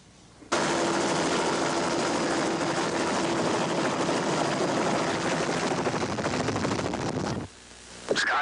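Sky 6 news helicopter heard from close by, a loud steady rotor and turbine roar with a rapid chopping beat that cuts off abruptly near the end, with no talk.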